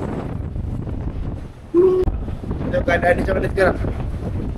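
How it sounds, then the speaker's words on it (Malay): Strong storm wind at sea roars steadily around an offshore kelong platform, buffeting the microphone with a constant low rumble. People talk over it in Malay. "Kuat yang angin."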